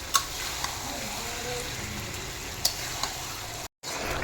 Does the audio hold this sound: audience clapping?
no